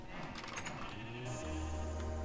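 Sheep in a video game bleat several times, faint and wavering, with soft clicks and ambient game sounds around them.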